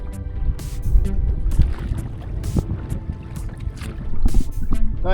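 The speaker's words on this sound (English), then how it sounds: "I know it's windy" Gusty wind buffets the microphone on a kayak camping trip among the Everglades' 10,000 Islands, a steady low rumble with louder bursts near the start and end, water faintly lapping beneath.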